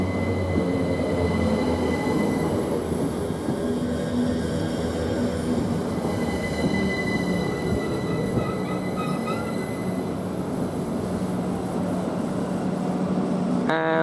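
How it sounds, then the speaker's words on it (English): A Great Northern passenger train pulling out of Waterbeach station bound for London King's Cross, a steady loud rumble of wheels on rails with sustained squealing tones as it moves off, with no talking. "Now the Great Northern, the 1404, is just departing towards London King's Cross."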